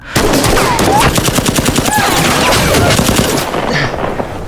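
Gunfire rips through a film shootout at a bank, dense rapid bursts of shots and booms close and loud, almost continuous, with brief raised voices under the barrage.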